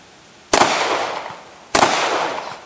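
Two loud, close pistol shots ring out at an outdoor shooting range, spaced a little over a second apart, each with a sharp crack followed by a long decaying echo.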